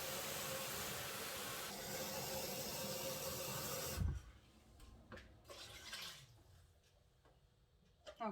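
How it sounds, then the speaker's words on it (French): Water gushes steadily and loudly into a cooking pot in a kitchen for about four seconds, then cuts off abruptly, followed by faint drips and handling noises. "Et je vais couvrir en eau au max."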